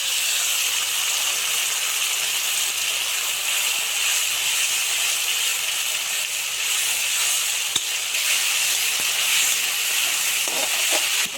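Cashew and melon seed paste sizzles in hot oil with a steady, loud, bright hiss that runs without a break, with a few faint clinks near the end.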